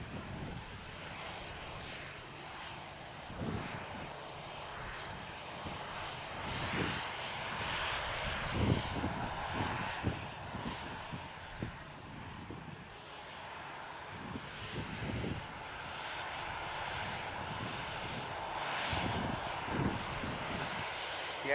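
A Lockheed C-130 Hercules transits over an airfield near Manchester Airport, its turboprop engines droning loudly and continuously overhead with a rumbling low end and faint thumps, building toward the middle and holding steady.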